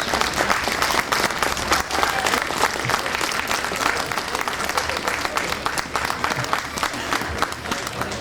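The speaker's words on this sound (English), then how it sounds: "A round of applause for Charley and his wife, please." Crowd lining a Veterans Day parade route in Leavenworth County applauds the grand marshal, with dense, sustained clapping and some cheering throughout.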